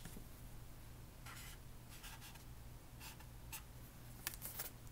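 Pencil writing a short word on paper, soft scratchy strokes in several brief bursts over a faint background hiss, close and quiet.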